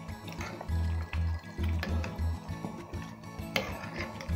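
Banga palm fruit soup is stirred in a pot, giving soft, intermittent liquid sloshes and wet squishing pulses with faint clinks, quiet and close.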